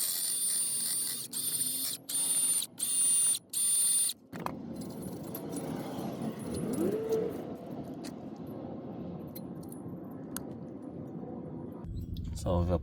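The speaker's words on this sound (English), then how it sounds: "We're going to use a wire brush with a rigid impact wrench." An impact wrench fitted with a wire brush cleans the bearing flange of a 2014 Ford Focus during a front brake job, giving several short, sharp whirring bursts before quieter shop handling noises follow.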